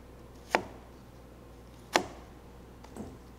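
Three sharp knife strikes chop through collard greens on a cutting board for a vegan dish, spaced about a second apart, the last one softer, in a quiet kitchen.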